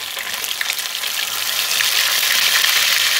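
Sausages frying in hot oil give off a loud, close, continuous crackling sizzle that grows slightly fuller partway through, with no talking.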